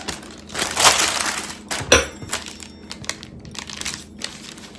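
A knife cuts through thinly rolled sourdough cheese cracker dough, giving a few irregular crunchy scrapes and cuts at close range, some louder and some faint.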